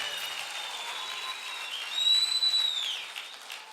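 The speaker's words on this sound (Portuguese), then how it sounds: "Dê um aplauso a Ele." A church congregation applauds during a Sunday worship service, a steady wash of clapping with a brief whistle-like tone rising midway, fairly close and even throughout.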